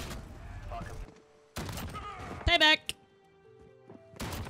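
725 shotgun fired in a video game gunfight: a couple of loud, sharp blasts close together mid-clip, with heavy impact noise around them and someone talking over the game sounds.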